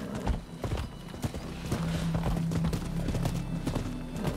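Rhythmic hoofbeats of a galloping horse with a horse whinnying partway through, set against a continuous soundscape with music in the video game Rise of the Ronin.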